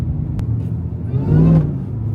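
A 900HP Demon Jeep with a new exhaust revs close by, a loud engine rumble with a rising mechanical whine that swells near the end, no talking.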